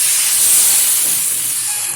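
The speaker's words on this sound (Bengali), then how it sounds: "এখন দিয়ে দেবো পরিমাণ মতো জল।" Water poured into a frying spice masala erupts into a loud, close rush of hissing steam and sizzle that holds steady for two seconds and eases slightly at the end, with no voices.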